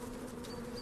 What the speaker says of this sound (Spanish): Las abejas quieren abandonar la colmena